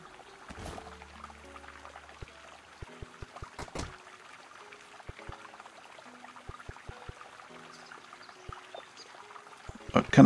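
Water pours and trickles from a well in the video game Garden Story, a light, faint splashing under game sound effects with scattered clicks and soft menu-like tones.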